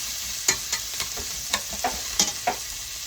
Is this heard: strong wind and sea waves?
no